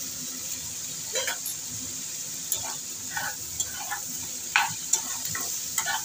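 Boiled bottle gourd peels and fresh green chillies stirred in a hot pan, a soft sizzle broken by faint scrapes and clinks of the spatula, with no one speaking.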